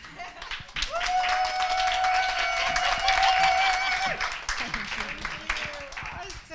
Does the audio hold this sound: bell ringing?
no